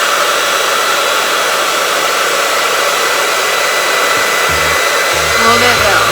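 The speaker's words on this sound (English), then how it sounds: "Turn on your blow dryer, and right under the bottom," A handheld blow dryer runs steadily at close range, a constant loud airy whoosh throughout while drying curly hair for a stretched wash-and-go, with faint low handling bumps near the end.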